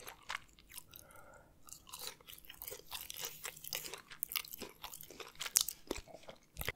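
Close, quiet chewing of McDonald's fries, with repeated soft crunches and wet mouth sounds in an irregular rhythm and no talking.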